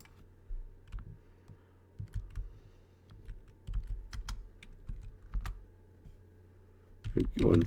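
Typing on a computer keyboard during a Kubernetes container demo, scattered key clicks in short bursts with a faint voice underneath and a louder clatter of keys at the end.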